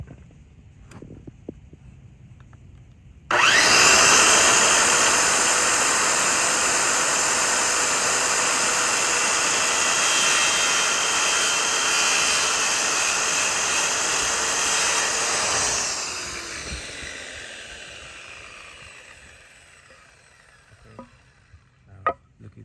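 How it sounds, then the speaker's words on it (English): A corded power saw runs up loudly and holds a steady high whine while cutting an 18-degree bevel in wood, then winds down and fades, with faint clicks before and after. "let's cut our bevel. We got a bevel at 18 degrees"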